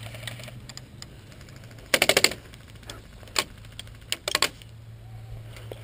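Airsoft gunfire from a KWA KM4/KM16 rifle on an outdoor field: a rapid burst of four or five snappy shots, then scattered single cracks and a short double burst, over a steady low hum and quiet background.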